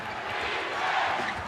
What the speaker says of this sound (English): Crowd urging the Lakers to tighten up the defense as Parrish goes in.